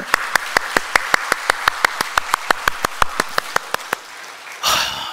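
A church congregation at a Sunday afternoon service in Korea claps fervently in steady unison: about twenty sharp, evenly spaced claps in quick succession, ending in a brief rustling burst of noise.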